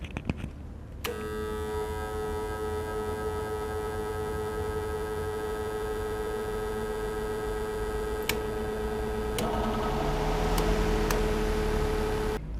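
Electric fan switched on and powered through a solar inverter from a 6,000-watt solar kit, producing a steady, loud electrical buzz with a strong hum and whine that holds for about eleven seconds, with brief clicks near the end and no talking.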